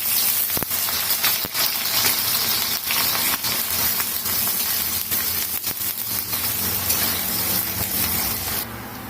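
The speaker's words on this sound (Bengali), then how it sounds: "এখন আমি পেঁয়াজটা দিয়ে দিচ্ছি।" Onions frying in hot oil in a wok for a loitta shutki (dried Bombay duck) curry, giving a steady, close, loud sizzle with scattered crackles and pops throughout, no talking.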